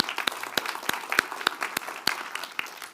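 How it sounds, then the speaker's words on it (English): An audience at a corporate product session applauds the co-presenters, sharp individual claps standing out over a dense bed of hands clapping, fairly close and steady throughout. "Let's give them a round of applause."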